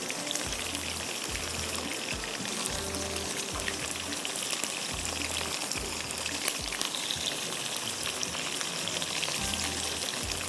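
Chicken for chilli chicken frying in a pan, a steady dense sizzle and crackle that holds loud and close throughout, with a faint low rhythmic thumping underneath and no talking.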